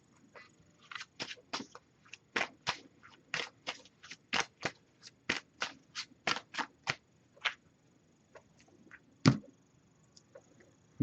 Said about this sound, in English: I'm just going to give this a few shuffles.